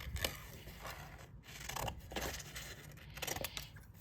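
Scissors snip and scrape through paper to cut out a shipping label while packing a plant order, a faint, close run of soft crisp cuts with no talking.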